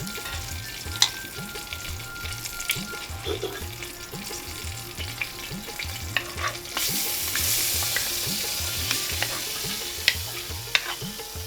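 Medium-sized shrimp frying in hot oil with salt and turmeric, a dense close sizzle overlaid by a steady rhythmic scraping of a spatula against the pan, with occasional clicks and a brief rise in hiss midway.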